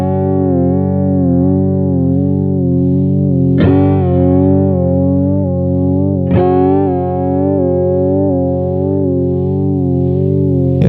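A distorted electric guitar note sustains through a Chase Bliss Audio Warped Vinyl pedal set to sine wave modulation, slowly sweeping its tone up and down in smooth waves, with a couple of fresh plucks along the way.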